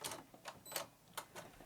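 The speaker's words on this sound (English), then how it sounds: "The printer does something in that way that printers do occasionally as they see fit." An Epson ET8550 ink tank printer runs a maintenance cycle, making faint, short mechanical bursts and whirs spaced irregularly against near silence.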